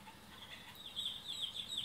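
Recorded chicken clucks from a farm-sounds baby board book play softly and thinly, a short run of faint repeated calls with no talking.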